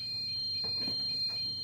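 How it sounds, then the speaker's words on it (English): The emergency roof hatch alarm of a school bus sounds during a pretrip inspection, a steady high-pitched electronic tone held throughout with faint movement underneath and no talking. "It opens and the alarm sounds."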